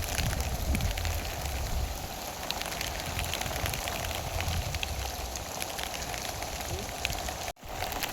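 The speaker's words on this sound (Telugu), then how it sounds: "వానకి జల్లు వస్తుందా" Steady rain falls in a residential colony during flooding, a dense continuous patter close by with no talk, briefly cutting out near the end.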